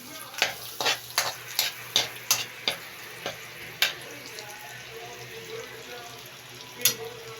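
Garlic browns in butter in a pan, a soft steady sizzle beneath a series of sharp, close clicks and scrapes of a utensil stirring, bunched early and then sparser.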